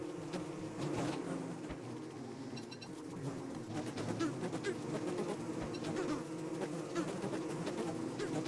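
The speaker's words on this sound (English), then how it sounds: "let them aggro into Chester before destroying the beehive" Bees drone steadily around a beehive in the video game Don't Starve Together, a dense, continuous insect buzz that holds for the whole stretch without speech.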